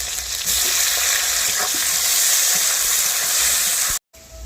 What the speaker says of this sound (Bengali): ফোড়ন দেওয়া তেলে পেঁয়াজগুলি ভাজা হয়ে গেছে